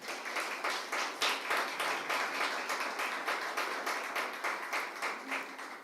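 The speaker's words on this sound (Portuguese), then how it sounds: "dê um aplauso bem forte ao Senhor" A church congregation giving loud applause to the Lord, brisk rhythmic group clapping that holds steady and even throughout, heard from some distance and fairly faint.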